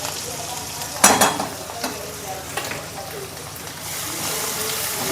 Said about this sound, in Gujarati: આ હું લાલ મરચાંની અને લસણની ચટણી છે જે વઘારમાં નાખું છું